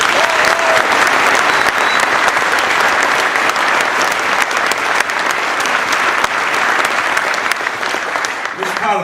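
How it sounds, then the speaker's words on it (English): A theatre crowd at a Victorian Labor campaign launch applauds Steve Gibbs and his wife Jo, with loud, dense clapping that carries steadily for about nine seconds without letting up. "A big round of applause for them"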